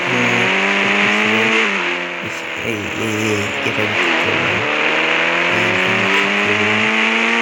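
A parked car's engine revs loudly and steadily as it is driven off, the pitch rising and falling through the clip while a man briefly calls out over it.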